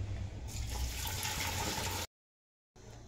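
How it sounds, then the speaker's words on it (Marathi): Running tap water pouring steadily over eggs being rinsed in a kitchen, a continuous close splashing hiss that cuts off abruptly and then resumes briefly. "आता मी पूर्ण अंडी अशी धुवून घेऊन शिजत ठेवणार आहे।"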